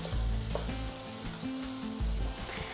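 Mixed vegetables with chopped tomato sautéing on a low flame: a soft, continuous sizzle close by, broken by a few stirring scrapes, with no voices.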